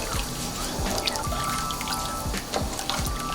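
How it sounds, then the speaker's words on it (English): Pot of Guyanese cook-up rice coming to a boil, steady bubbling and popping with small wet plops over a constant simmering hiss, close and moderately loud. "my rice started to boil"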